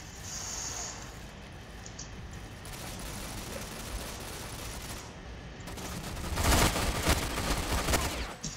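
Gunfire in a shooter video game comes as dense, continuous rattling bursts that swell louder toward the end, with no talk over it.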